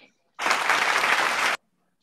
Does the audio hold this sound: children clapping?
yes